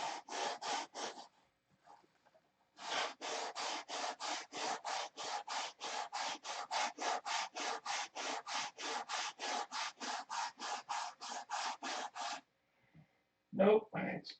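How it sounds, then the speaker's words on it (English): Grinding material off a Mega Tucker cowl during mounting: a long run of steady, rhythmic abrasive strokes, loud and close, after a brief burst and pause, ending with a short sharp noise. "let's grind this off"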